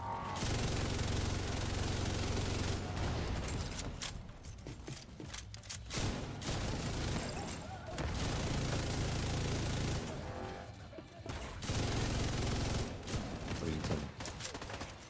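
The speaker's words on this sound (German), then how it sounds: "Ich schieße einfach nur ins Weiße rein." Sustained automatic gunfire rattles in the video game The Division 2, coming in long, dense bursts broken by short pauses across the whole stretch, loud and close.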